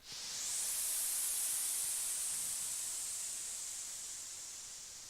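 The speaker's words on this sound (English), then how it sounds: "I just gave up and put on some triple oscillator white noise." Steady white noise from a triple-oscillator synth in LMMS hisses alone, rising in quickly then holding bright and even before slowly fading slightly toward the end.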